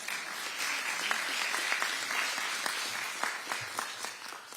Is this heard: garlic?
no